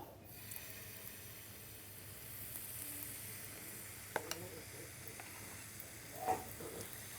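Pitha batter fries in oil in a home kitchen, giving a soft, steady sizzle and hiss with a few light utensil clicks and scrapes near the end, with no one speaking.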